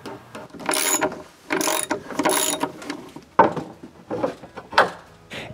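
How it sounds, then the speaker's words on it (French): Screws being driven to fix welded metal pieces onto a wooden cabin shutter, several separate bursts of ratcheting, whirring driver noise with short pauses between them, close and fairly loud. "Tout ce qu'il reste à faire, c'est de visser les morceaux que j'ai soudés à la maison"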